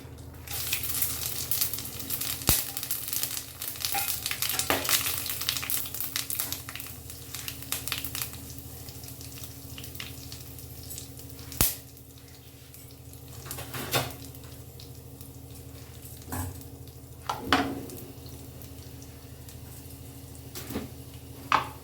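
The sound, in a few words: whole garam masala, bay leaf, cumin, dry chillies sizzling in hot oil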